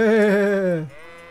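A ram in a video game lets out a single drawn-out bleat, loud and close, wavering before it drops off, with no voices over it.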